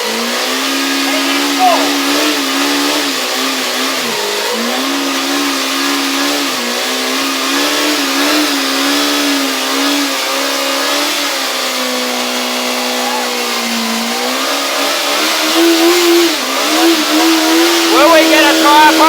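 A motorcycle engine revs hard and steadily during a burnout at a lunchtime gathering, loud and close, rising and falling in pitch, with crowd voices and shouts mixed in under the engine.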